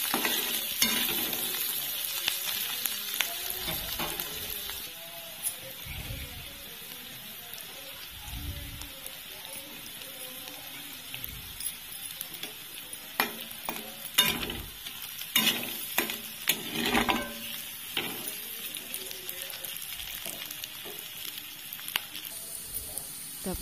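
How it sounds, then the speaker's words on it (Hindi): Sliced carrots and capsicum stir-frying in a hot pan for an egg Maggi masala, with a steady sizzle and repeated scraping stirs of the spatula. Close and fairly loud, with no talk. "दुईट गाजर को काटिकी से अल्प टिके कैप्सिकम भी देकी भाजवा।"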